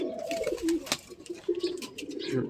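Pigeons cooing nearby in low, rolling bursts, with a sharp knock partway through and faint background noise.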